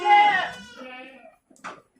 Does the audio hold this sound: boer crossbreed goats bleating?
yes